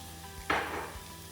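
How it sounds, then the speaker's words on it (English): Onions drop into hot vegetable oil in a pan and set off a sudden, close hiss of sizzling that fades slightly over a second. "Okay, they're sizzling away."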